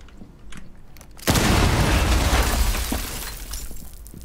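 A loud explosion bursts through a floor in a video game, a sudden booming blast with crumbling debris that rolls on and fades over a couple of seconds, following quieter background game sounds.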